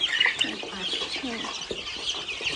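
Several chickens cluck and chirp near a farmyard waterer, a continuous mix of close calls with a voice talking briefly in the background.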